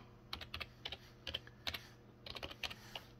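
Soft, close typing on a computer keyboard, with quick clusters of key clicks separated by short pauses, quiet and alone.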